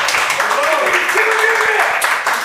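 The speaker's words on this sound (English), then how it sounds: "Everybody start clapping right now." An audience at a hip-hop interview show claps, a steady short burst of hand claps with voices talking and calling out over it.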